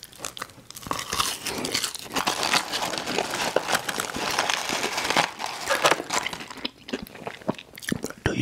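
Crispy McDonald's french fries dipped in sauce being eaten close up, with steady crunchy chewing and biting that continues through most of the stretch.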